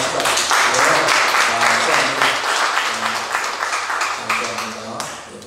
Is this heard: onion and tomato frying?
no